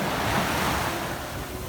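Sea waves washing onto a beach, a steady broadband roar of surf with some wind on the microphone, continuous and fairly loud throughout with no voices.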